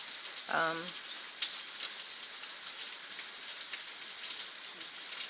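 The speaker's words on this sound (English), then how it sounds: "It's raining out. We're getting a lot of rain today." Rain falls outside as a faint, continuous hiss of patter, with a brief tonal call and a small knock early on.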